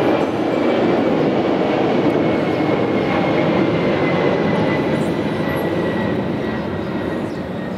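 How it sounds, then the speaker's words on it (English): An aircraft roars overhead during an outdoor event in India, a loud, steady, broad rumble filling the whole stretch and fading slightly at the end. "just wait for the aircraft."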